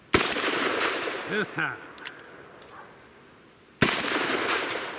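Two loud, sharp gunshots from a Colt Anaconda .44 Magnum revolver with a 4-inch barrel, one right at the start and one near the end, each with a long ringing tail, with brief talk between them.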